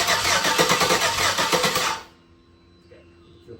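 A Chevrolet Nova's LS 5.3 V8 in a garage, running loud and rough with a throbbing rumble for about two seconds before cutting out abruptly into near silence.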